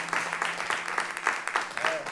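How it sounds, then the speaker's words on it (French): An audience applauds at a show in Sète, a steady, moderately faint patter of many hands clapping throughout. "Une acclamation."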